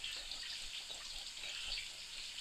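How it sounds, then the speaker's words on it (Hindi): Water pours steadily into a wok (kadai) holding lentils for haleem, a soft continuous hissing splash that stays faint and even throughout. "एक लीटर पानी शामिल कर देंगे।"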